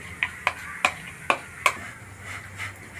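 A utensil stirs a tomato sauce mixture in a pan, giving five sharp clacks against the pan at uneven intervals, followed by softer scraping and shuffling sounds, close by and fairly quiet.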